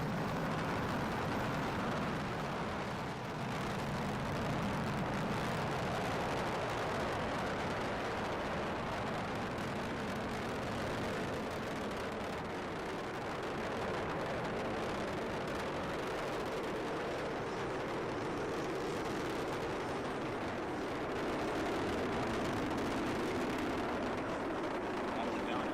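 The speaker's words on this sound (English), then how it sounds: "liftoff of the final United Launch Alliance Delta IV Heavy rocket" The final United Launch Alliance Delta IV Heavy lifts off from Complex-37 at Cape Canaveral with the NROL-70 payload, giving a continuous, heavy crackling roar that holds steady throughout while a voice talks over it.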